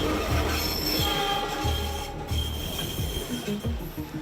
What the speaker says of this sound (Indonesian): suara rel kereta api ketika kereta akan mendekat